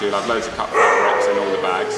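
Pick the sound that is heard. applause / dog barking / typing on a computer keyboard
dog barking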